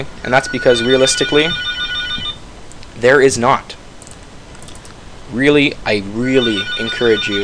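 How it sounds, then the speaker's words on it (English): A phone rings with repeated bright electronic tones, partly beneath someone talking steadily close by. "Yes, that's my phone."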